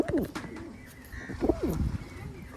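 A trained pigeon, agitated and defensive near a box, gives repeated throaty coos in short rising swells, close and fairly loud against a rustling background.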